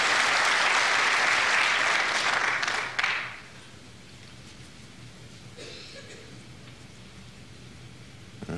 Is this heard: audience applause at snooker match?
yes